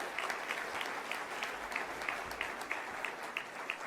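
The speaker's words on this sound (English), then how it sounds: "A round of applause for our board members." Audience applause for board members at a college groundbreaking event, a dense, steady wash of many hands clapping at moderate distance throughout, with no talk over it.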